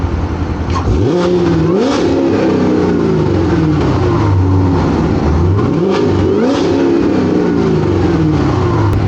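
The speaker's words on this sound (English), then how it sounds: "let's pop the hood, let's do some revs" A supercharged Corvette Z06 engine revs hard twice with the hood open, rising to a loud whining roar and dropping back to idle, close by with no talking.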